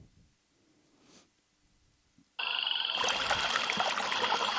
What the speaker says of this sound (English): Now I'm just noticing that the rainforest is a little bit loud now in comparison to the other sound effects